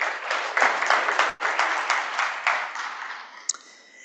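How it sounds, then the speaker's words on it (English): A conference audience at an oil and gas event in Namibia breaks into a full round of applause, dense, sustained clapping that fills the room, then briefly dips and resumes before tapering off. "Let's give another round of applause."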